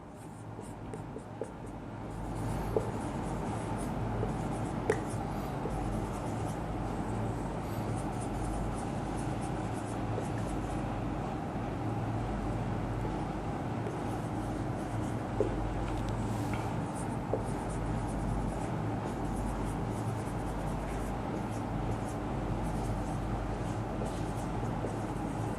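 Pen writing a question on paper, a steady continuous scratching that runs almost the whole time under a low background hum, fairly close and moderately loud.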